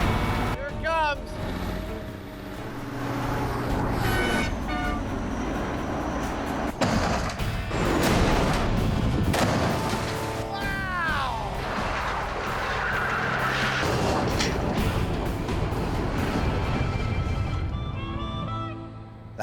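A truck accelerating to 50 miles an hour slams into a green car in a staged crash test, with a roaring engine run-up, a heavy thudding impact and scraping debris, while people talk over it.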